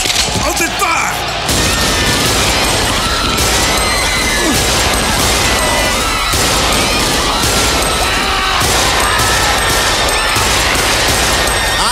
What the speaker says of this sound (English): Now switch from the rubber bullets to live ammo and return fire now.